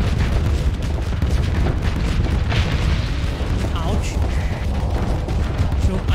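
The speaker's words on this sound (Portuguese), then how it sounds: "Explosão pra todos os lados aqui." Spaceship explosions in the space combat game Starsector, a dense, continuous barrage of booms and blasts layered over one another, loud and unbroken throughout.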